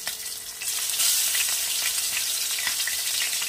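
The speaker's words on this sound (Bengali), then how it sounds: "প্যানে তেলটা গরম হয়ে গেছে, আমি মাছগুলো এবার ভেজে নেব" Koi fish frying in hot oil in a pan makes a loud, dense, continuous sizzle that swells sharply after the first half second, with faint crackles running through it.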